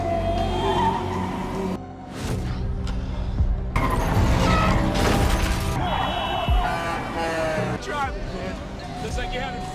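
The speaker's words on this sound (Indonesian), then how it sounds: "Namun, Will berhasil mengendalikan ambulannya dengan baik." An ambulance skids and screeches through a police car chase in a film, with tire squeals, engine roars and crashing impacts in abrupt bursts, while a narrator talks over the action.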